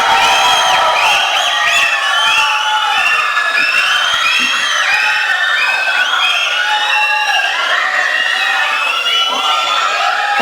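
A large crowd at a film trailer launch event cheers and whoops loudly and continuously, a dense roar of voices with shouts rising over it throughout.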